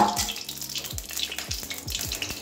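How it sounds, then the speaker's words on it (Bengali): Potatoes frying lightly in hot oil for a potato and pointed gourd curry with jackfruit seeds, a steady close crackling hiss with a few soft clinks and scrapes throughout. "আলু হালকা ভেজে নেব, কাঁচা গন্ধ যাওয়া পর্যন্ত।"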